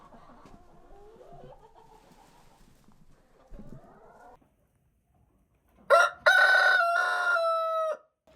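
Chickens clucking softly on a farm on a blustery winter day, followed after a short pause by a rooster's loud, close crow lasting a couple of seconds.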